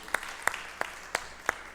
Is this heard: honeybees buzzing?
no